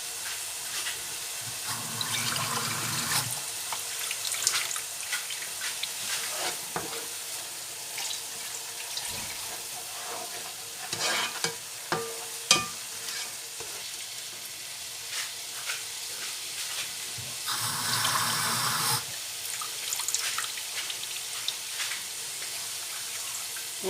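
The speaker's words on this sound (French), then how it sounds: "Et ici, on va mettre beaucoup plus d'eau" Water poured into a large pan for a peanut sauce, with a quiet running splash and a faint sizzle, joined by intermittent stirring clatter and a few sharp knocks, fairly soft overall with no speech.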